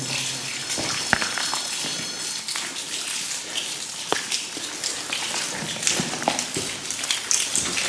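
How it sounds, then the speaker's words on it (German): Steady rain patters and drips close by, with scattered heavier drops splashing irregularly over a constant wash of falling water. "man steht hier permanent im Regen gerade, das ist echt unangenehm."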